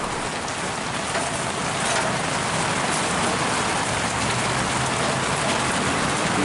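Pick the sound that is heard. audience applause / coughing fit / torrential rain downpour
torrential rain downpour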